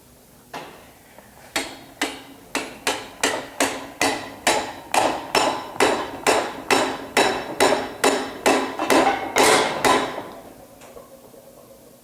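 Blacksmith's hammer strikes metal in a forge at a smithing conference: about twenty loud, close, ringing blows in a steady, even rhythm, with no talk over them.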